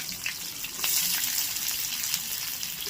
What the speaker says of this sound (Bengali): এবার এটাকে একটু ভেজে নেব।